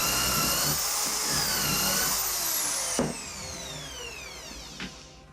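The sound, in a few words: power drill drilling holes through a jig into plywood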